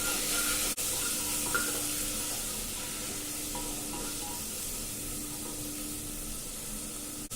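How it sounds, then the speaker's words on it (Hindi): Dal with a small tomato, a spoon of salt and a little turmeric is stirred in a cooking pot, giving a steady soft scraping and faint sizzle with a faint hum beneath and no talking. "सबको अच्छे से मिक्स कर ले रहे हैं।"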